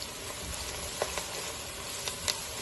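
Garlic ginger paste and onion frying in a karahi, a steady close sizzle with a few light scrapes of stirring and no talk.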